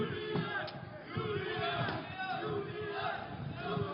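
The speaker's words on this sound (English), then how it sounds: "Crowd trying to get behind Marinescu here." A crowd at a combat tournament roars and shouts in encouragement for fighter Iulian Marinescu, a dense, continuous wash of voices with a commentator talking over it.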